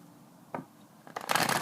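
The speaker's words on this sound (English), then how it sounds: "I want to make sure they get nice and shuffled up" A deck of tarot cards is shuffled close up: a soft tap, then a quick, crisp riffle of cards building up in the final half-second.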